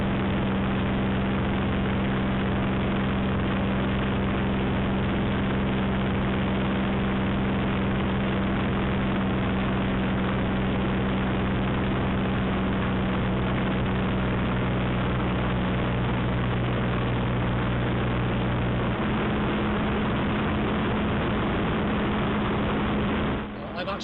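A Spitfire's piston aero engine drones steadily and loudly in flight during a slow right-hand turn, a constant deep roar with a slight pitch shift near the end.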